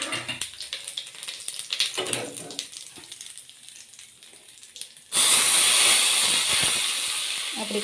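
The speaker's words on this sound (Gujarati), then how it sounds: "પહેલાં તો વઘાર કરવા માટે આપણે જો તેલ મૂકી દીધું છે." Oil heating in a pan on a home stove for tempering dhokla batter bursts into a loud, steady sizzle partway through, following quieter kitchen clatter and faint background sounds.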